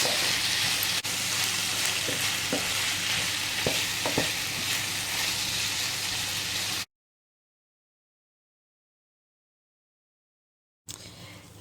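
Vegetables frying in a pan with melted fat and a vegetable stock cube, a steady close sizzle with a few stirring clicks for about seven seconds, then silence before the sizzle returns briefly.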